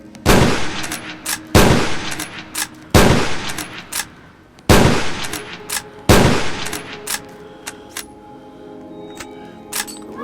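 A Kar98k bolt-action rifle fires in the video game Dead Rails, with five loud, sharp shots spaced about one and a half seconds apart, each trailing off in a ringing decay, followed by softer clicks and metallic handling sounds.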